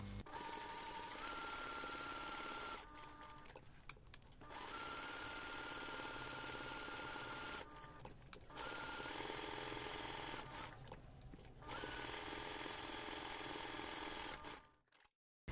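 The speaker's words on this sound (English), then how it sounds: "take this to the machine and baste the pocket around all sides" Sewing machine basting around all sides of a pocket on a clear-vinyl ring binder pouch, a steady close mechanical whirring in long runs broken by brief pauses, with no talking.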